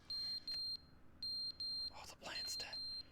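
In The Stanley Parable, a smoke alarm emits repeated shrill, high-pitched electronic beeps in short bursts with brief gaps. Near the end a voice talks over the beeping.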